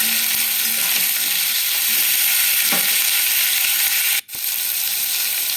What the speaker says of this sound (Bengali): এবার বেগুনগুলো দিয়ে দিলাম এবার বেগুনগুলো এপাশ ওপাশ করে ভালো করে ভাজা ভাজা করে নিতে হবে